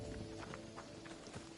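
A horse's hooves clip-clop in a quick, steady trotting rhythm in the video game Assassin's Creed Odyssey, faint but clear over a low ambient hum.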